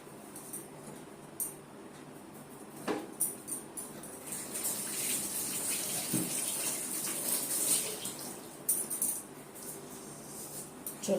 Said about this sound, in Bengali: হাত ধুই দেবো